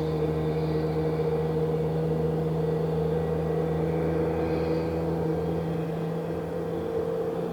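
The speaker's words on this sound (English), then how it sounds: "We can hear 412 UW starting her other engine now." Low droning hum of a Horizon Air jet's second engine spooling up at Phoenix airport, a steady tonal whine over a rumbling bed, constant and fairly loud throughout.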